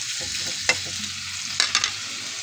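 Longganisa sausage frying in a pan, a steady close sizzle with a few sharp crackling pops and spatters rising above it, with no voices.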